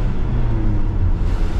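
An old, worn-out, slow truck running on the road, its low engine rumble steady and loud from inside the cab.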